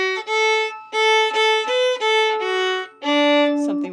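Solo fiddle plays the second half of the B section of the Newfoundland folk tune I'se the B'y, a series of clear bowed notes with short gaps, close and loud, ending on a long lower note.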